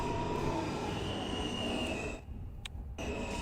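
A Brooklyn-bound B subway train on the MTA's BMT/IND Midtown lines in a video game runs with a steady loud rumble and wheel squeal, briefly dipping quieter before the roar returns.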